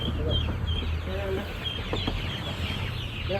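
Backyard chickens, hens with a rooster, cluck steadily and close by. Their chatter runs for several seconds over low background noise while people talk nearby.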